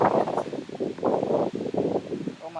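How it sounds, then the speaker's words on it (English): Gusty wind buffets the microphone in low, rumbling bursts that rise and fall, loud and close, with no talking. "Oh my gosh, it's so windy out here."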